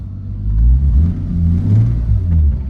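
A Toyota Supra MK4 with a bone-stock naturally aspirated 2JZ, running pump gas, accelerates on a short drive, a deep low engine rumble swelling and easing through the revs, heard close with no talking.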